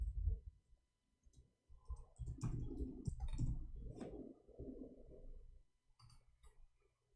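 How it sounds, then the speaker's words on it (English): Computer keyboard typing in Arabic script, heard as a loose run of light key clicks over a low background rumble, fairly close and at moderate loudness, with no one speaking. "Oh, I'm typing in Arabic."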